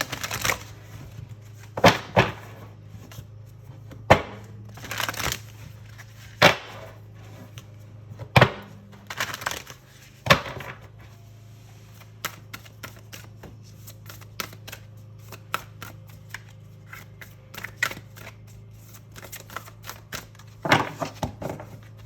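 Oracle cards are shuffled in repeated riffling bursts and soft card slaps, close and fairly quiet, with short pauses between handfuls.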